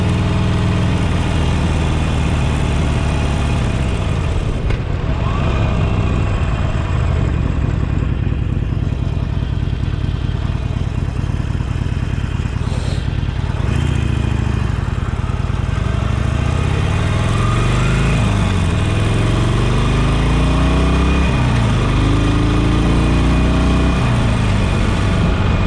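A 2018 Harley-Davidson Sportster 48 Special with an air-cooled 1200cc engine and a 5-speed transmission rumbles loud and close for the whole stretch, its deep engine note rising and falling as the revs change.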